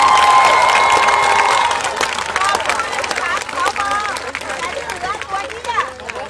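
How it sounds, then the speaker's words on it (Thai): A Thai political crowd claps and cheers in a loud, busy burst that settles into lively clapping mixed with overlapping voices and shouts. "ช่วยปรบมือเป็นกำลังใจให้กับสวเหล่านี้เลยครับ"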